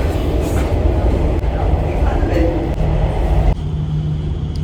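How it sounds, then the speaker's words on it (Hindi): A metro train carriage rumbles steadily with a dense low roar and some rattling while the train rides along, loud and continuous, and the sound shifts near the end. "तुरंत ही मेट्रो हमारी आ गई थी और हम बैठ गए थे जाके उसमें।"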